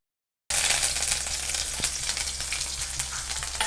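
Small shallots and curry leaves hit hot oil already crackling with mustard seeds, bursting into a loud, steady sizzle with crisp pops after a moment of silence, close and continuous.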